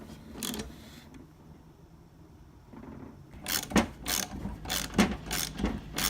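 A tool ratchets as a part is tightened into the aluminum housing of a STOCKade ST400 fence stapler during servicing, giving a few soft clicks, then a close run of sharp, rapid ratcheting clicks, with no talking.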